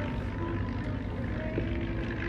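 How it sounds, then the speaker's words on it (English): A P-40 Warhawk fighter plane rolls out at a World War II weekend air show, its engine a steady, loud, broadband drone with a sustained tonal hum running throughout. "Rolling out in the P-40 Warhawk."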